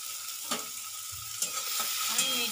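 Ginger garlic paste, chopped green chillies and tomato frying on a medium flame, a continuous close sizzle with occasional stirring scrapes and no voices.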